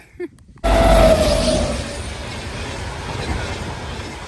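After a brief muffled moment, a train roars past close by with a loud rush and a short wheel squeal, then rumbles steadily on.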